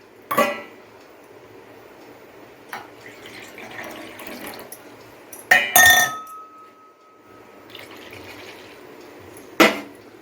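Water poured into a pot while making coconut water halwa, with a few sharp clinks of utensils and glass against a running trickle in the kitchen, close and fairly loud.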